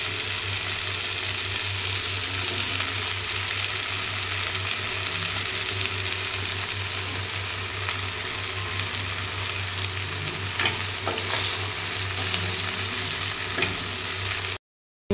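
Potatoes and batboti beans fry in a wok for a fish curry, giving a steady, close broadband sizzle that runs unbroken with a low hum beneath and occasional stirring clicks.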